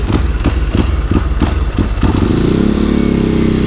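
A Ducati 749 motorcycle engine fires up with a few loud rhythmic cranking pulses, then settles into a steady, close, throbbing idle.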